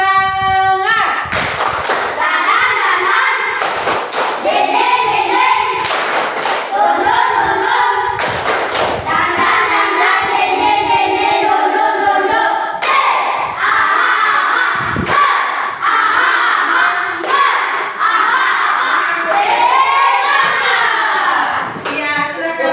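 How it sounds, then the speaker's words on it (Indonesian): A group of children performs the tepuk semangat spirit clap, loud unison hand-claps in a rhythmic pattern with sharp, regular thumps and shouted chanting voices throughout. "kita akan tepuk semangat. Tepuk semangat."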